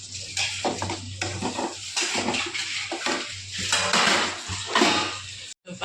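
Egg Maggie noodles with masala being stirred in a pan, a steady run of scraping and clinking of utensil against metal with wet splashy texture, fairly close and continuous, no talking.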